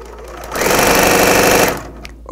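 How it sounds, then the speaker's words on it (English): A Bernina L 460 sewing machine with a DC motor stitches at a steady, fairly fast whir for about a second, loud and close, then stops. "I can sew slow"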